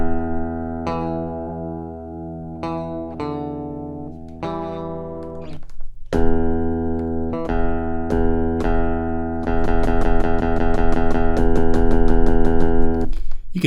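Second take of an electric guitar played direct through a Hosa Sidekick DI box: a run of struck chords and single notes, growing louder toward the end with a fast rhythmic strummed passage, close and clean, with no speech.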